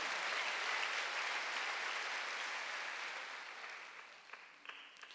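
A church congregation at a Sunday worship service breaks into broad, steady applause that gradually softens, with a few isolated claps and small sounds near the end.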